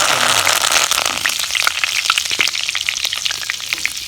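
Curry leaves are dropped into hot oil and fry loudly close by, giving off dense crackling, popping and sizzling. The bursts are sharpest at first, then settle into a steady spattering hiss, with no talking.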